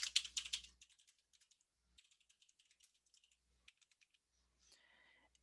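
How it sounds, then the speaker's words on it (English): Computer keyboard typing during a PowerPoint demonstration: a dense burst of rapid keystrokes opens, then scattered lighter key taps follow at an uneven pace, close and fairly quiet with no talk. "so now what we can do is we can type"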